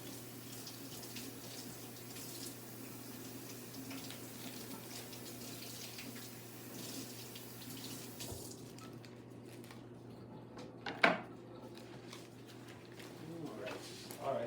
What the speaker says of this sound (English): washing broccoli is the same as washing all your other vegetables